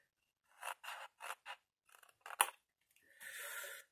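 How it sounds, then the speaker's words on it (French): Scissors snip through card for a pirate-chest postcard box, a quick run of separate close cuts followed by a longer scraping pass, with no talk. "On épointe les deux. On coupe."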